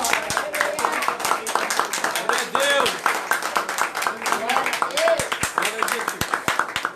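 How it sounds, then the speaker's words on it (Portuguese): A church congregation applauds in praise, a dense, steady run of hand claps lasting several seconds beneath a voice speaking and calling out over it. "Eu posso ouvir um aplauso para o Senhor Jesus nesse momento?"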